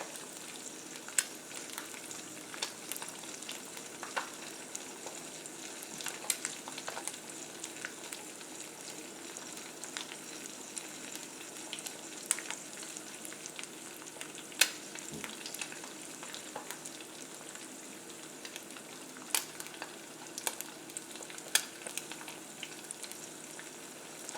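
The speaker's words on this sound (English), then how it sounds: "Now I like my fried eggs to be crispy on the edges." Eggs fry in a pan, cooking until crispy at the edges, giving a continuous close sizzle sprinkled with frequent small crackles and pops throughout, steady in level with no talking.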